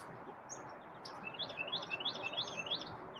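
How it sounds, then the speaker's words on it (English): Small birds in a backyard give a quick series of bright, repeated chirps, about a dozen in a steady rhythm over a soft background hiss, with no speech. "There's a lot of birds in the backyard here."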